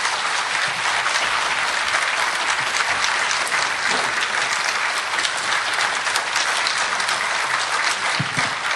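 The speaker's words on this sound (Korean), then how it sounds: "여러분 박수로 맞아주시기 바랍니다" A large audience claps steadily and loudly throughout at a commemorative ceremony, a dense continuous wash of applause with no voices standing out.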